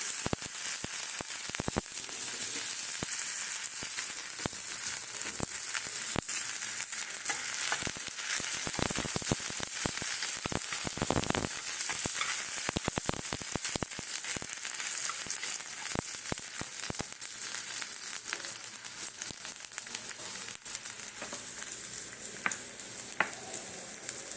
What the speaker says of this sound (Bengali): কড়াইতে অল্প অল্প তেল দিচ্ছি এবারে এই যে রসুন আর আদাটা আছে